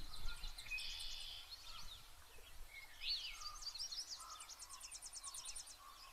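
Birdsong from a yellow-rumped warbler sounds faint and distant outdoors: a few high, thin chirps and trills, ending in a quick repeated trill, over quiet insect buzz and low background rumble.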